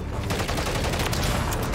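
Rapid, loud gunfire from a sniper rifle in the video game Call of Duty: Modern Warfare 3, with shots crackling densely through the whole short burst.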